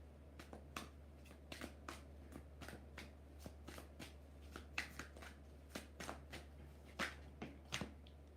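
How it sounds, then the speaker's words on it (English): Tarot cards are shuffled close by in a long run of crisp, riffling bursts and soft taps, repeating at an uneven rhythm over a low steady hum. "Two more shuffles."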